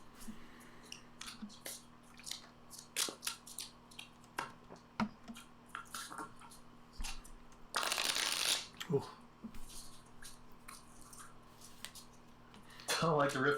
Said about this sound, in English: Don't like the riffle shuffle?